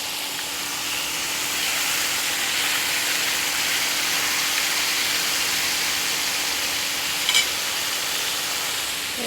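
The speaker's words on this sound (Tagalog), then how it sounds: "Kaya magluto tayo ng chicken nuggets." Chicken nuggets fry in hot oil with a continuous, even sizzle and crackle, close and steady, and a single brief sharp tick near the end.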